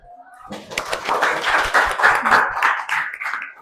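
A classroom group claps hands in a dense burst of many overlapping claps lasting a few seconds, starting after a brief pause and fading slightly at the end.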